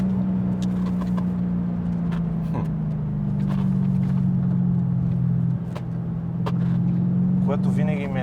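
BMW E34 540i from 1994, V8 engine, driving with a steady low drone and exhaust pops from the tailpipe. People talk throughout, close to the car.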